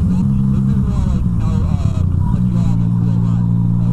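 A motorcycle engine drones loud and close, its pitch rising and falling as it revs during a wheelie, while someone talks over it.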